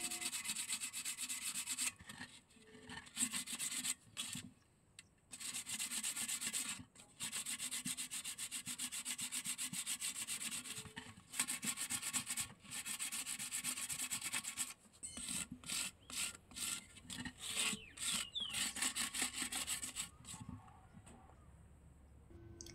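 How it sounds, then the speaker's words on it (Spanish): Sanding the rough edge of a handmade cement planter, a steady abrasive rubbing that runs in long strokes with brief pauses, close and fairly loud, later breaking into shorter, choppier passes. "ya lijé un poco, el borde se nota un poquito mejor"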